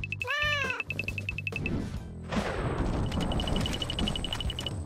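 A kitten gives one clear, near meow at the start, followed by rustling, scraping noise and a run of rapid, repeated electronic beeps.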